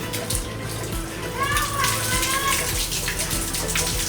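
Tap water running steadily while meat pieces are washed, a close gushing splash with a voice and other chatter in the background.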